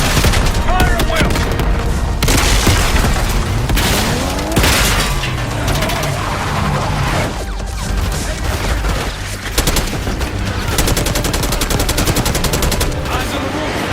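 Relentless automatic gunfire and booming blasts during a zombies firefight in Call of Duty: Black Ops 6, loud, dense and close, with rapid bursts overlapping heavy impacts throughout, no voices heard.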